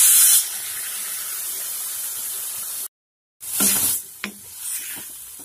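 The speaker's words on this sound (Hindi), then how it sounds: "आधा कप पानी डाल दिया हमने इसे" A steady loud hiss and sizzle as water meets onion masala in a hot pan, briefly cut off, then resuming with bubbling and a few soft clinks, close and alone.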